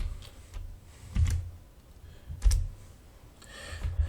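Typing on a computer keyboard, a few soft, separate keystrokes at uneven intervals, close and fairly quiet against a low background hum, with no talking.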